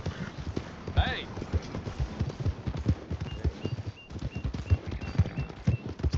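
Horse hooves clip-clop along at a steady walking rhythm in the video game Red Dead Redemption 2, close and fairly loud, with people talking at moments over the hoofbeats.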